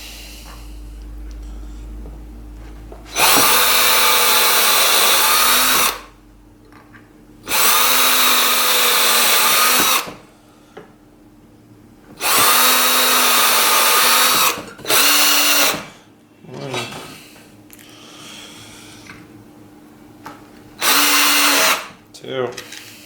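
Power drill driving screws into a DIY shelf: several loud, close bursts of motor whine a few seconds each, separated by quiet gaps with breathing and small handling noises.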